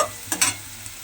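Potatoes frying in oil for a flattened rice dish, a brief close sizzle with two quick bursts of stirring scrapes, no talk.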